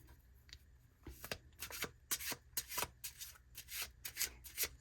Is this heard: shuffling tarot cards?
yes